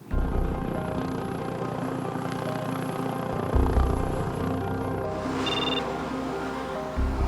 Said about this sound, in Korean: 헬기로 이송된 응급 환자가 곧바로 소생실로 옮겨집니다.